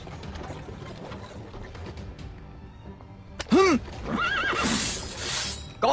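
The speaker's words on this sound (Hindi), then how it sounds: "मेरे भाई ने पी रखी है और आपके घोड़े को डरा दिया" A frightened horse neighs loudly in a dubbed action film scene, a rising and falling whinny that repeats in several bursts over a background of ambient noise.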